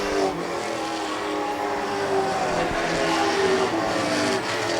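Late model race cars roar around the track during the third and final heat race, a dense, continuous engine drone at full volume that stays loud throughout.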